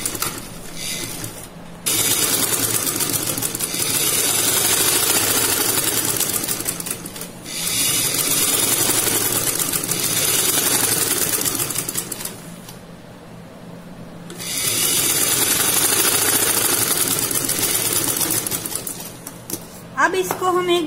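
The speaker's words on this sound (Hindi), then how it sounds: "और सिलाई लगा लेंगे।" Long bursts of a sewing machine running fast as it stitches a single-folded fabric hem on a sleeve, a loud, continuous mechanical whir with brief pauses between runs and a faint click at the end.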